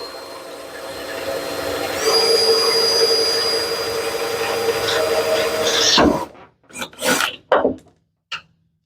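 Power drill boring through an aluminum hood on a 2015–2022 Ford Mustang, a steady loud grinding whine that stays continuous for about six seconds, then stops abruptly and gives way to a few short clunks and scrapes.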